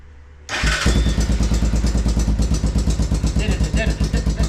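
A Honda Foreman TRX 350 ATV engine fires up abruptly and runs with a steady, rapid pulsing chug, loud and close, with faint voices underneath.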